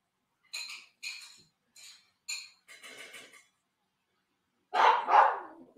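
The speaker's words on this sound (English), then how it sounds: "our dog is just going crazy on the barking" An excited dog barks in quick bursts, several sharp barks, a short pause, then a louder closer pair at the end, with no talk.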